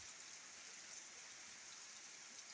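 Steady morning rain falls on an open rural setting, a continuous soft hiss of drops with no voices.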